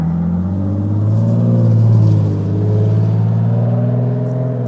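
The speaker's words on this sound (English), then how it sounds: "These V6 engines, they're so loud." A loud V6 car engine in the video game Fortnite drones steadily close up, its pitch climbing and falling gently as it revs, with no voices.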